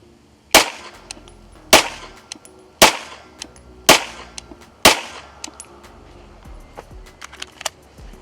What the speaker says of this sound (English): That's 10 shots. Very effective shots.